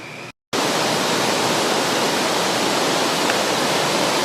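Steady, loud rushing roar of water pouring over the old mill weir at Albi, continuous and broadband after a brief gap at the start.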